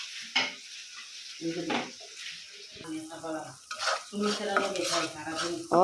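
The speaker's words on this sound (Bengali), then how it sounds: "এই যে দেখেন মশলাটা কষানো হয়ে গেছে" Spice masala being stirred and fried in a pan, with intermittent sizzling bursts and scraping utensil strokes, and a voice speaking at times between and over the kitchen sounds.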